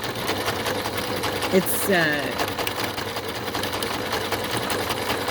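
Sewing machine stitching strips of fabric scraps, a steady close mechanical whir and rattle running throughout, with someone speaking briefly over it partway through.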